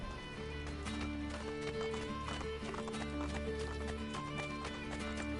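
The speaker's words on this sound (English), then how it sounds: "I will just run after this horse," Horse in Assassin's Creed Brotherhood galloping with steady clip-clop hoofbeats and an occasional neigh, set over a continuous game music score.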